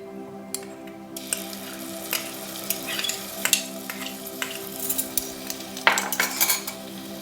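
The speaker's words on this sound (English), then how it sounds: "Giving that a stir around." Curry with fresh ginger stirred in a pan, a spoon scraping and clinking against the metal in repeated sharp strokes over a steady low sizzle, close and moderately loud.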